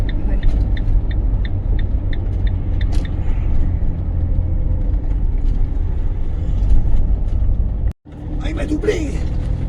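Road traffic in a Moroccan imperial city rumbles steadily from inside a camper van, with a constant low engine drone and passing vehicles, a short sudden break near the end, while people talk over it.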